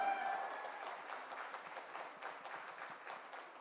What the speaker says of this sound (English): So a huge round of applause for all of you.